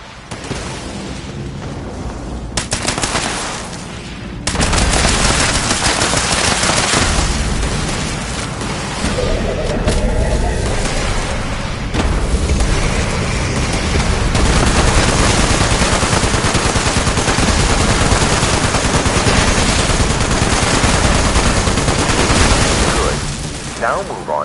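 Heavy, nonstop automatic gunfire aimed at a brainwave siphon in Fallout 76, loud dense bursts mixed with explosive booms over a long stretch, with speech partly heard under the shooting.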